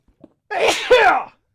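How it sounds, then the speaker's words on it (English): A single loud, close sneeze during a Minecraft livestream podcast, preceded by a faint intake of breath and breaking into a sharp two-part burst. "Go 15 years without sneezing on a podcast and then sneeze twice during a live stream."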